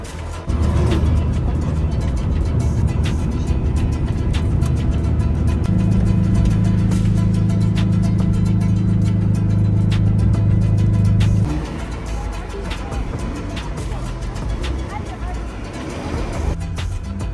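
A minibus drives along a road on the way to Vedeno in Chechnya, its engine a steady, loud low drone that rises in the middle and then eases, with indistinct voices in the background.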